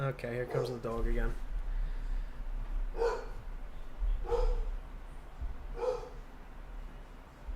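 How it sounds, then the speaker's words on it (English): A dog barks three times at a distance, with the barks spaced evenly about a second and a half apart, after a person briefly speaks. "here comes the dog again."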